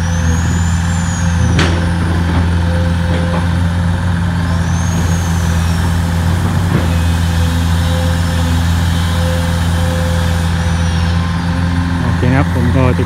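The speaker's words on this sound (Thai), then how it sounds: "มาแล้วสตาร์ทเครื่องสูบน้ำนะ" An engine-driven water pump runs at a muddy waterway site, its steady, loud mechanical drone holding unbroken for the whole stretch, with a few faint clanks over the top.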